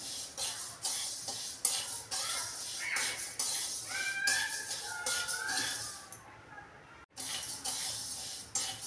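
Rice is dry-roasted and stirred in a pan for thalipeeth bhajani, with a close, continuous scraping and rustling of grains and repeated clinks of the spoon against the metal.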